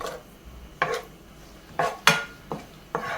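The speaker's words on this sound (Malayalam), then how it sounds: "ഇതെല്ലാം രണ്ടും കൂടെ ഒന്ന് ഇളക്കി ഒന്ന് ഫ്രൈ ആക്കി എടുക്കാം." A spoon scrapes and clinks against a pan as cashews and raisins are stirred and fried in a little fat, about six sharp, close knocks at uneven intervals.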